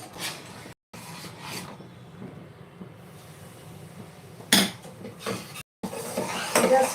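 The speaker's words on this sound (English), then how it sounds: "Just scrape off all the ghee from this and then add it back." Ghee being scraped out of a cooking vessel left from making carrot halwa with jaggery, heard as close metal scrapes and clinks in short uneven bursts with brief pauses between them.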